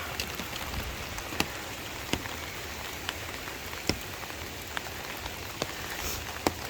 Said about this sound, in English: I don't know that I've ever been up here with this much rain